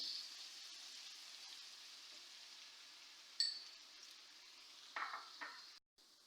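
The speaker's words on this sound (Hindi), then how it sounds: "ऑयल अब हमारा गर्म हो चुका है। अब मैं इसमें डालूंगी लहसुन।" Garlic cooking in hot oil in a pan: a faint, steady sizzle runs throughout, with a couple of brief clinks and scrapes near the end.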